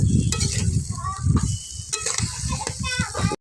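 Beans stirred into a hot pan sizzle and scrape in irregular bursts, with children's voices and chatter mixed in close by.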